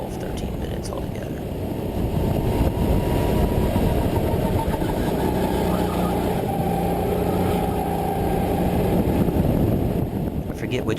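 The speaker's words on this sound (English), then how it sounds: "it's a Sodi gas-powered kart." A Sodi gas-powered go-kart engine idles steadily at a karting complex, a continuous close rumble with a faint high whine running through it and no clear speech over it.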